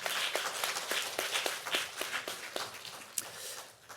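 An audience at a university English department centennial forum gives a soft round of applause to welcome a professor to the stage. Individual claps stand out within the faint, scattered clapping.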